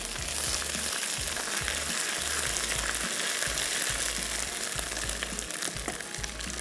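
Ginger garlic paste sizzles loudly in hot oil with curry leaves and fenugreek, a dense continuous frying crackle with occasional stirring, close up and with no talking.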